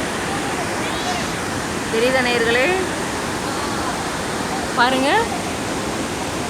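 Water pours steadily at Athirapally waterfall, a continuous broadband roar of falling water that fills the whole clip while someone talks over it.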